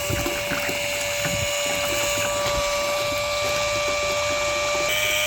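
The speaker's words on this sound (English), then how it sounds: "I got the pump going" A pump draining water out of a 40-gallon hot water heater tank hums steadily, with a constant mechanical drone and faint trickling water running through the whole stretch.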